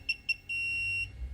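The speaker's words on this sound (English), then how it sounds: "once it finally fires, it's going to give you a solid long beep" A MobileX portable X-ray generator sounds two short beeps, then fires with a single steady long beep lasting about half a second, close and clear, with no talking.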